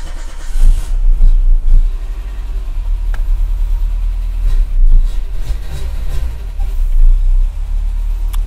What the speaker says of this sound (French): on peut peut-être tenter même un démarrage